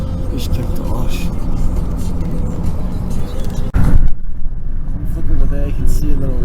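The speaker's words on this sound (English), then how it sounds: "Driving trucks from Bishkek to Osh." A truck drives the road from Bishkek to Osh in Kyrgyzstan, its engine and road noise a steady loud rumble inside the cab, with people talking over it and a brief bump near the middle.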